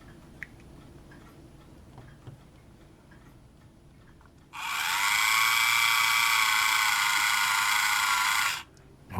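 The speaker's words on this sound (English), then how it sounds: "Let's drill that hole out" A small toy drill whirs steadily for about four seconds as it bores a hole in a model ship, a high, even buzz that starts and stops abruptly after quiet handling noises.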